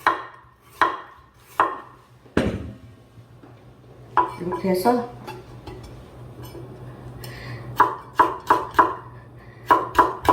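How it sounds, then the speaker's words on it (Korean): A knife chops carrots on a cutting board for cabbage white kimchi, giving sharp, evenly spaced knocks in short bursts with a pause in the middle, while someone talks briefly nearby. "당근이 조금 들어가야 제가 썰어 놨는데 조금 써는 것만 보여드리겠습니다"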